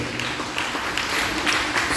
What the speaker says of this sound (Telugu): గట్టిగా చప్పట్లు యేసు ప్రభువుని స్తుతిస్తాం.